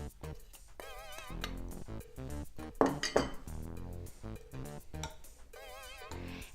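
A spoon clinks against a glass while adding flour for a kids' bread science experiment, several bright metallic taps and scrapes with soft rustling between them, close and distinct.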